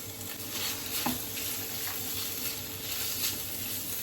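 Beef undercut frying in a pan with onions and capsicum added back, giving a steady, soft sizzle with a low background hum and an occasional light utensil clink, no talk.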